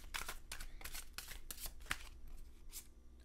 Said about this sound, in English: I can't shuffle properly.